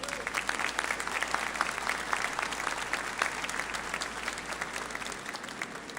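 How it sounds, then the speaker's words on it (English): Steady applause from an audience at a ship christening ceremony for the USS Kansas City (LCS 22), honouring the Navy Band; dense, even clapping lasting several seconds at moderate distance, with no speech over it. "so can I get another round of applause for them?"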